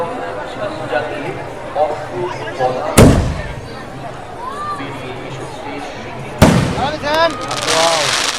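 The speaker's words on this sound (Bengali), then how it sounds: "এক একটি এক একটা করে সেল ফাটাচ্ছে দেখো" Firework shells burst loudly one at a time during a Dol festival procession, two sharp, booming cracks several seconds apart over crowd chatter and voices in the street.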